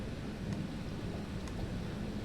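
Thunderstorm in a survival video game at sea aboard a boat, a continuous low rumble of rain and wind with faint crackling bursts, steady and fairly loud, no one talking.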